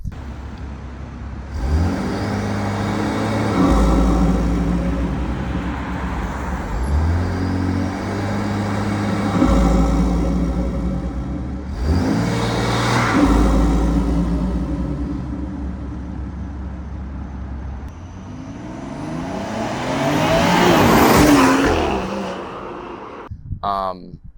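A BMW 540i engine with an aftermarket downpipe revs repeatedly, rising and falling in pitch with a raspy, throaty exhaust note, up close, ending in a louder rev.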